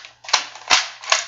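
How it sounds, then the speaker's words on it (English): A Nerf toy blaster fires three quick snapping shots, each a sharp pop followed by a brief mechanical rattle, close and evenly spaced within about a second. "you can just do this and shoot the gun"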